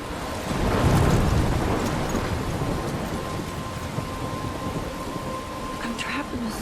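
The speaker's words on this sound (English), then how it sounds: "I'm trapped in a storm?" Thunderstorm with heavy rain in the video game Life Is Strange: a loud rolling thunder rumble builds early and slowly fades under a constant wash of rainfall, with a few faint higher tones near the end.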